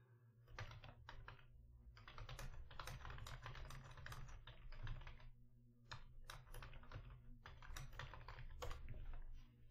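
Rapid bursts of keystrokes on a computer keyboard, close and fairly quiet, with brief pauses between runs of typing and no voices.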